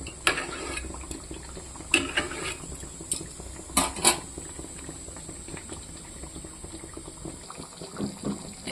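Hilsa fish sautés in oil with spices in a pan, giving a continuous close bubbling sizzle with a few sharp clinks of a utensil against the pan.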